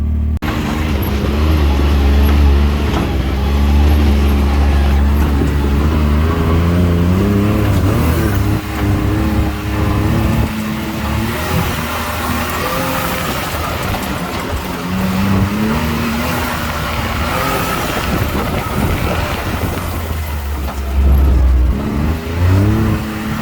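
A Can-Am Maverick X3 side-by-side runs off-road through the bush, its engine loud and close as it revs, rises and falls in pitch, and surges repeatedly, with no voices over it.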